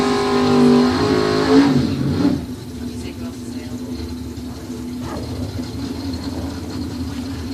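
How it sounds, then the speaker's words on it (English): A Pontiac and a Camaro at a bracket drag race, their engines roaring loudly at launch for about two seconds before fading to a distant drone, with an announcer talking over them. "Chad is dialed 655 in the Pontiac. Doug in the Camaro, 657"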